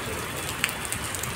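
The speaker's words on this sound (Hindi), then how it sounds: "बारिश हो रही है" Steady rain hissing across a surface at the Campus Law Centre, Delhi University, with a few scattered drop taps standing out now and then; no voices.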